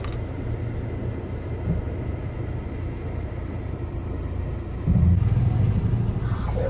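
Low, steady rumble of vehicles idling and crawling in a traffic jam on a hill road to Sinhagad Fort near Pune, continuous throughout, with a louder engine swell near the end.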